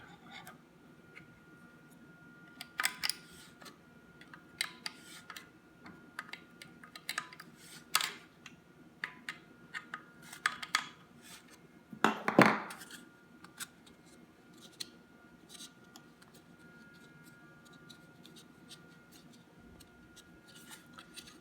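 Loosening and removing the forend nut of a roughly 15-year-old Remington 870 shotgun with a modified spade bit, giving quiet scattered metallic clicks and scrapes with one louder rasping twist midway, close in a quiet room.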